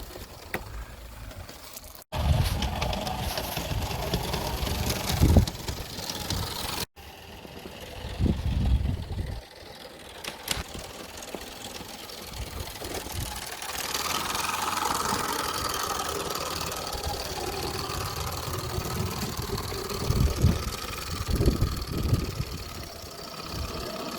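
A Regner Chaloner De Winton live steam garden locomotive running light engine outdoors, a continuous chuffing, rumbling churn that goes on at a steady level for the whole stretch, with a few abrupt cuts.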